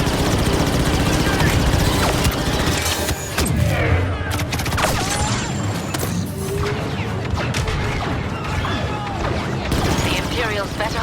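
Star Wars Battlefront 2 battle on Endor, with dense overlapping gunfire, blaster bursts and grenade explosions crashing over a constant din, with a voice calling out amid the chaos.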